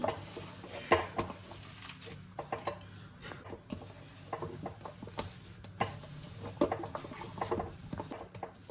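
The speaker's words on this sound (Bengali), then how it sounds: "এবার আমি এটাকে ভালো করে মেখে নিচ্ছি" Raw banana fritter batter with rice flour is mixed and squeezed by hand in a bowl, giving soft, close wet patting and squishing sounds in irregular bursts, with occasional light knocks against the bowl and no talking.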